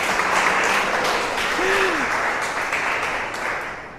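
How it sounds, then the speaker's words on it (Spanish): Congregation applauding during a church sermon, a steady wash of clapping filling the whole clip at fairly constant loudness and fading slightly at the end. "Yo no sé por qué aplaudieron."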